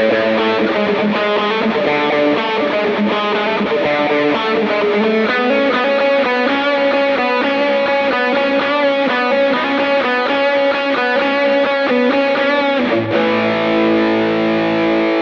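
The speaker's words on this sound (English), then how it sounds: "The Expandora sound on this patch is blending a cleaner Minotaur in path A and a Proco Rat" Electric guitar played through a Line 6 Helix patch blending a cleaner Minotaur overdrive with a Proco Rat distortion, heard as a sustained, saturated chordal riff with layered effects, loud and alone without talk.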